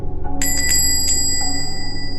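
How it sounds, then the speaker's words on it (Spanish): A counter service bell in a pharmacy, used as a story sound effect, chimes several quick bright rings in succession and then leaves a lingering metallic ring over a low background hum. "Instantes adelante escuché la campana del mostrador."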